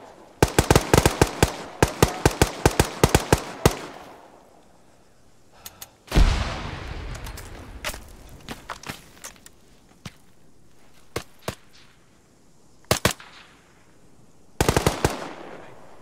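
Automatic rifle fire in the military shooter Arma 3 comes in a rapid opening barrage of loud cracks, then a heavy blast and scattered single shots and short bursts, with a final close burst at the end.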